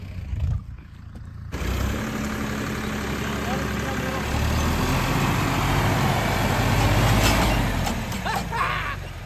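An Eicher 650 tractor engine running in four-wheel drive at a tractor competition, a sustained heavy diesel rumble that swells slightly and holds steady after a brief quiet start.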